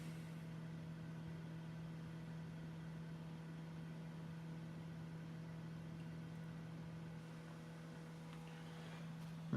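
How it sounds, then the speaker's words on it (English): A computer hums steadily while its disk spins during Windows XP setup, a constant low drone with faint mechanical whir that holds unchanged for the whole stretch, with no talking. "There's the computer right there, spinning the disk."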